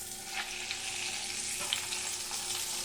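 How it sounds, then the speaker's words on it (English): A Beyond Meat burger patty sears in a hot pan, sizzling steadily and close up with a dense, continuous crackle and small pops, no voices. "you can see that we're already getting a pretty decent sear"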